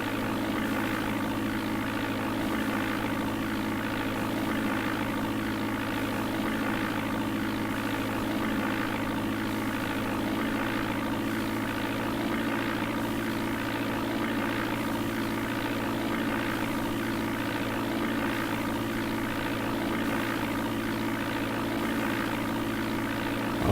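Steady propeller aircraft engine drone from DOS Flight Simulator 4, a continuous loud hum with flaps lowered on approach, unbroken and alone for the whole stretch.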